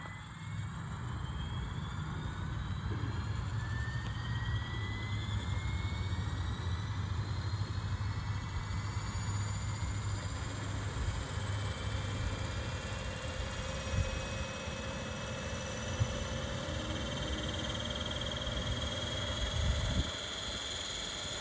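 A Bluethunder 500-size model helicopter with new blades and tail unit runs at full throttle, a loud steady whine and rotor roar with rising tones, constant and close throughout with no talk.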